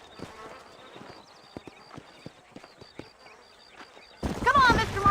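Rhythmic hoofbeats of horses clip-clopping along in the video game Red Dead Redemption, with voices talking over them, then a sudden burst of louder, busier sound and a whinny near the end.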